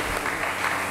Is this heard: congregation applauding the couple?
yes